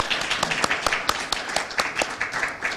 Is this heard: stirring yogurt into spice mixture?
no